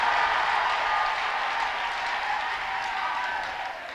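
A church congregation applauds loudly in a sustained wash of clapping that carries steadily throughout and eases slightly near the end.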